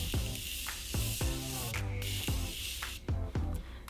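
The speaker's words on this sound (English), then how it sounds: "whenever I spray this on me, it, like, not just this, but all setting sprays kind of like make my mascara run" Setting spray misted onto a face in a string of about eight quick, close hissing pumps, each short burst evenly spaced with no talking.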